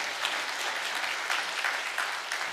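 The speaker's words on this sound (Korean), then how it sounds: "우리 한번 박수로 한번" A church congregation applauds during an anniversary revival service, a full, steady round of clapping from a large crowd filling the room.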